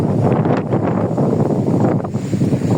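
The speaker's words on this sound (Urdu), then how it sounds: "اتنی تیز ہوا چل رہی ہے" Strong storm wind gusting steadily in Punjab, a loud broadband roar buffeting the microphone throughout with no pauses, dense and continuous.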